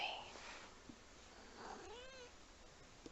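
A domestic cat meows several times up close in a quiet room, one long rising call near the end, with a low purr-like rumble beneath.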